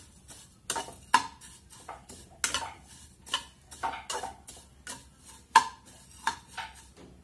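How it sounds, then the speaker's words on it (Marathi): Fine vermicelli being roasted in a pan for kheer, a spoon or spatula stirring and scraping in short, uneven clinks and scrapes against the metal, close and fairly quiet, with no talking. "आता ते शेवया आपल्याला भाजून घ्यायच्या थोड्याशा"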